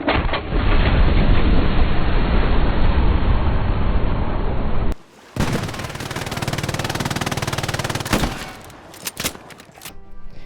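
Sustained automatic machine gun fire in the World War II shooter Hell Let Loose, a loud continuous burst for about five seconds, then a brief pause and further rattling gunfire with scattered sharper shots, no talk.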